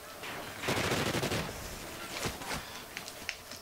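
Enemy machine gun fire in the Call of Duty Ghosts campaign: a loud, dense volley of gunfire for about a second, followed by scattered shots and sharp cracks that grow quieter.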